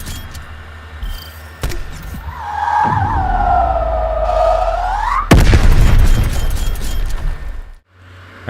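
M79 grenade fired in Black Ops Cold War: a rising whine gives way to one loud, close blast with a long, rumbling, crackling tail that cuts off abruptly.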